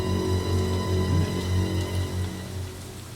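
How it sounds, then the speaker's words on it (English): Steady rain falls in the survival horror game Resident Evil 0 HD Remaster aboard the Ecliptic Express train, a continuous dense patter with low rumbling ambience underneath, alone without any voices. "Oh, it's raining!"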